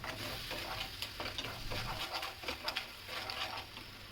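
Mashed mango pulp and sugar cook together in a pan, giving a soft, steady sizzle with faint stirring scrapes throughout. The sound is quiet and close, with no talk.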